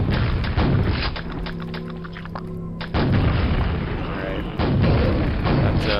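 Booming rocket launcher blasts from Quake thud out in a few heavy bursts, with a lingering rumble between hits and someone talking briefly over the action.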